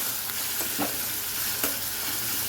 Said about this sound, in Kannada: ಈಗ ಈರುಳ್ಳಿ ಚೆನ್ನಾಗಿ ಫ್ರೈ ಆಗಬೇಕು